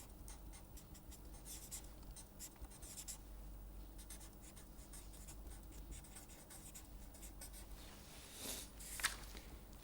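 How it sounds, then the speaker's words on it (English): Chalk or pen writing out the inverse Fourier transform during a lecture, a steady faint scratching stroke after stroke over quiet room tone, with one brief louder tap near the end. "so let us write that down"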